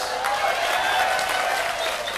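Audience applause at an Islamic preacher's talk in Indonesia, a steady patter of clapping from a seated crowd that holds through the short stretch, with what may be voices mixed in.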